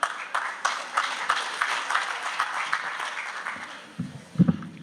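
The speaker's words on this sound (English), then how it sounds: "Does that applause count?" A theater audience at the 2019 Poetry at the Line slam competition at the Columbian Theater gives a short burst of steady applause that tapers off, with a few muffled sounds at the end.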